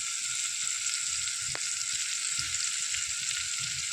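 Green onions sizzle in a hot pan while an eggplant olo cooks, giving a steady, close hiss of frying that holds evenly throughout, with faint soft knocks underneath and no talking.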